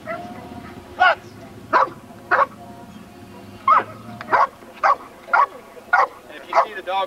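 A trained police dog barks from inside a car, sharp repeated barks in irregular bursts of one or two, fairly close, with low crowd murmur and voices in the background at an outdoor car show.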